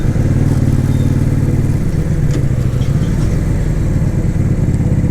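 A motorcycle on new tyres riding along a road, its engine droning steadily and loudly for the whole stretch with wind and road rumble, no talking.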